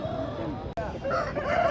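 Large heavy Aseel rooster at a busy market crowing in a drawn-out call that starts midway and rises toward the end, heard over steady market bustle and chatter.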